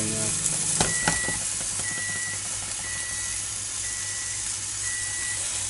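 Steady sizzling of schnitzel sauteing in hot sunflower seed oil, a constant close hiss with a couple of brief clicks near the start.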